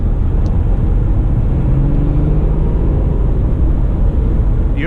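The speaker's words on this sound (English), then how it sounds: "it brings the revs right up and simulates a downshift or several" A 2017 Subaru Legacy 3.6R with a CVT under hard acceleration, its engine droning loud and steady from inside the cabin, with a low rumble and road noise filling the sound throughout.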